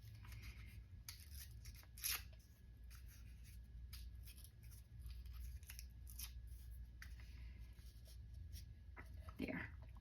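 Scissors snip through paper for a collage journal card, a series of crisp close cuts spaced irregularly, with soft paper rustles and handling noises in a quiet room.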